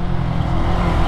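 Steady road traffic noise with car engines rumbling and passing nearby in a continuous, dense drone, heard from a Yamaha R15 V3 motorcycle stuck in traffic.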